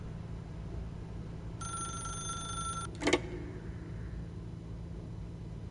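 A telephone rings in a video game with a single electronic bell-like burst, followed by a sharp pickup clack, over a steady low hum and room rumble.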